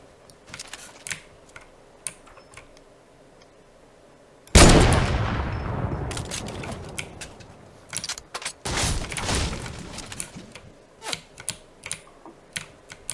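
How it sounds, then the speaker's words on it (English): Gunfire in the video game Fortnite: one sudden loud blast with a long decaying tail, later a second burst, surrounded by quick sharp clicks of keyboard typing. "They're returning fire."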